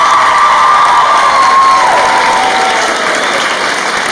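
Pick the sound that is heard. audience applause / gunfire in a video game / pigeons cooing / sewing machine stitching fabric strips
audience applause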